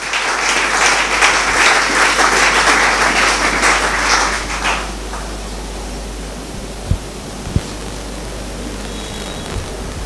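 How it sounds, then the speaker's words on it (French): Congregation applause at a church wedding service, a dense broadband wash of clapping lasting about four seconds before fading to quiet room tone with a couple of faint knocks. "Est-ce qu'on peut acclamer pour la parole de Dieu?"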